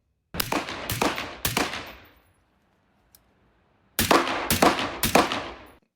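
Suppressed Block 3 URGI carbine with a heavy buffer fired in two quick strings of three shots each, loud and close with short decaying tails, separated by about two seconds of quiet.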